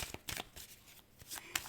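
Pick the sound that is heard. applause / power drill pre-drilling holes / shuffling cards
shuffling cards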